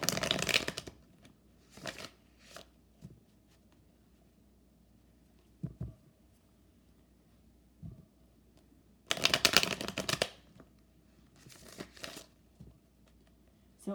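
Tarot cards are shuffled close by in several quick riffling bursts separated by quiet pauses, with a couple of longer, louder shuffles partway through.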